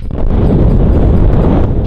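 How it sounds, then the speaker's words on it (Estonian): Strong wind blows outdoors on Saaremaa island in Estonia, roaring loudly and steadily across the microphone as constant buffeting gusts with no voices. "Aga ma tahtsin teile näidata seda, mis tuul meil siin praegu õues on."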